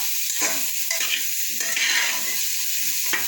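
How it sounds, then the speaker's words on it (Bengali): Mutton and potatoes being stirred and fried in a pan, a steady sizzle under repeated scraping strokes of the spoon, several distinct stirs close by with no talking. "আমরা ভালো করে কষতে থাকবো। ভালো করে নেড়ে নেড়ে"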